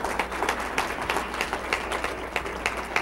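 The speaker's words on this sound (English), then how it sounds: "Clapping. Can we clap?" Audience clapping at a live comedy show, a steady dense patter of many hands close by and moderately loud throughout, with no one speaking over it.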